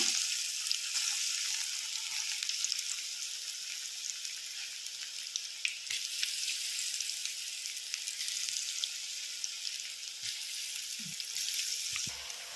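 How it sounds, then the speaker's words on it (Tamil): Pinches of black chickpea pakoda batter drop into hot oil and fry with a continuous bright, crackling sizzle, close and steady, with a few small clatters near the end. "ஒரு பாத்திரத்தில் எண்ணெயை ஊற்றி சூடானதும் இந்த மாவு வந்து கொஞ்சம் கொஞ்சமாக எடுத்து இதை மாதிரி கிள்ளி போடணும்"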